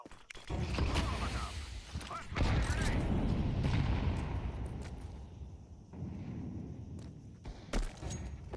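A flashbang grenade going off in Counter-Strike, a sharp burst followed by a loud ringing roar that fades over several seconds, with scattered clicks and game noises after it.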